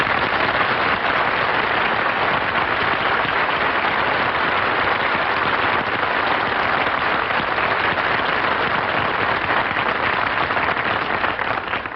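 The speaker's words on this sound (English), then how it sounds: "I didn't mind the applause he got on his entrance" Dense, loud audience applause in a studio theater for a radio comedy show's entrance, a sustained even roar of many hands clapping at once that holds steady throughout, with no voices.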